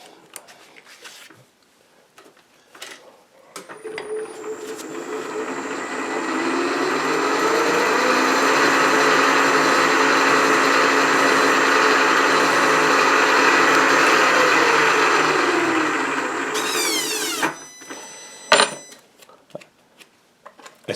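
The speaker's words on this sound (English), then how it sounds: "Then I use a spotting drill." A machine spindle whirs up, holds a steady high-pitched drone while a drill cuts, then winds down, with faint clicks before and after.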